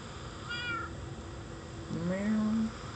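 A cat meows twice, a short high mew followed by a longer, lower drawn-out meow, over a quiet background hum.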